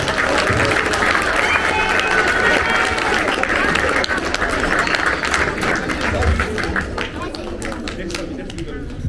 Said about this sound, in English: So a big round of applause to the parents as well.